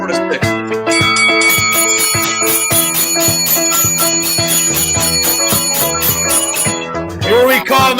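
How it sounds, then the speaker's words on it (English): A bell rings rapidly and repeatedly in a fast, bright clanging rhythm, loud and close, with a burst of other noise at the very end. "Ring the bell."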